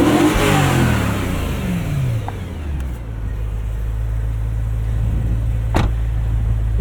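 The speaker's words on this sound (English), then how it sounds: "We'll give you guys a taste of this exhaust too." A BMW E92 M3 Lime Rock Edition sports car engine revs up loudly through its titanium exhaust, then settles into a steady deep idle rumble, with a brief sharp blip near the end.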